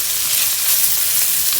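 Onions frying in a pan with a sprinkle of salt: a close, steady, loud hiss of sizzling oil, unbroken throughout with no talk.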